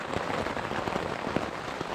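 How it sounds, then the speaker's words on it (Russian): Torrential rain pouring down outside a wilderness camp shelter, a steady, dense hiss with scattered heavier drops pattering close by, no talking. "А так там, как из ведра льет."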